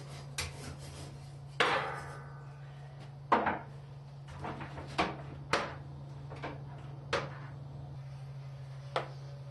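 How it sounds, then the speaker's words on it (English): Hammer blows on spring steel being shaped into a cutlass, about ten sharp metallic strikes at irregular intervals over a constant low hum, fairly faint and with no voices. "It's going to be a lot of hammer."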